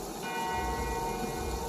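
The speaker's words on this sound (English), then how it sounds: "Bell on cue." A bell rings on cue during a staged horror show, a sustained resonant tone that hangs for a moment with no voices over it.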